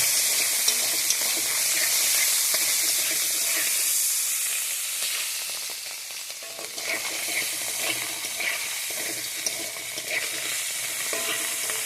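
Small fish frying in hot oil in a pan, a loud continuous sizzle and hiss that steadies into a crackling spatter, with some stirring in the mix.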